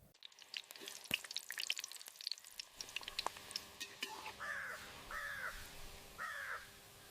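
In an AI-generated scene, a crow caws three times, loud and clear, after a stretch of crackling, sizzle-like ticks.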